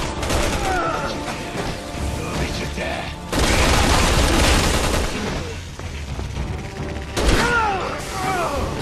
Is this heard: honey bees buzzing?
no